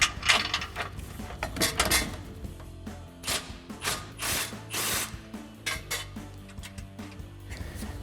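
An 18mm socket wrench works nuts off the bolts of a Jeep Gladiator JT front bumper, with close metallic ratcheting bursts and clanks of tools in irregular spurts.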